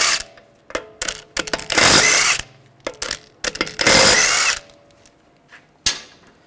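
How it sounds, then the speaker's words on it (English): A power tool with a 17mm socket spins BMW lug bolts off the wheel of a 2009-2010 535i xDrive. Two long loud whirring bursts come up close, amid short clicks and knocks. "Now I'm gonna remove the lug bolts. Use a 17mm socket."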